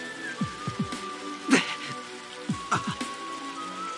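Steady rain falls in the Japanese game RUSH & DREAM!, a constant soft hiss broken by scattered drips and plinks that come in small clusters, with no one speaking.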